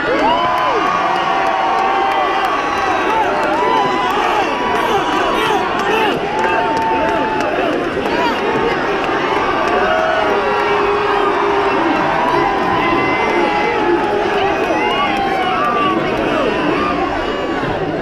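A rally crowd cheering for Bill Clinton at a Hillary Clinton event, a dense, continuous roar of shouts, whoops and excited voices held at a loud, even level throughout.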